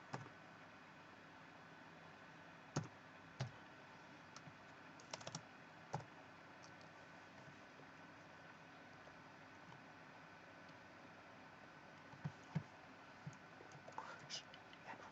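A computer keyboard gives sparse, faint clicks in scattered clusters and single taps over a steady low background hiss. Typing is uneven, with long gaps between bursts.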